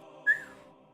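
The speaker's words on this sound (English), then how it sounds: "when you get to about this point, you can hear the halfling whistle to himself" A single short, rising whistle from a halfling character in a tabletop fantasy game stands out briefly over a soft, steady background hum.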